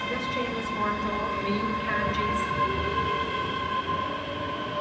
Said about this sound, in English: The train heading one stop to Edinburgh Waverley is now departing, formed of a pair of 385s.